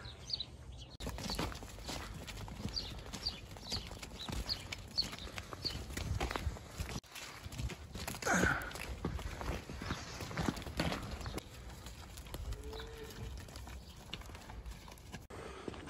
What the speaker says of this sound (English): The cows came flying out, but the calves are a bit more stubborn.